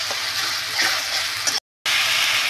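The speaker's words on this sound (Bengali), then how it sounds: "গ্রেট করা টমেটো ভালো করে আমি কষিয়ে নেব এতে মশলার ভেতরে।" Grated tomato fries with spice paste in a pan, giving a loud, steady bright sizzle with faint stirring, close by, broken by a brief silent gap.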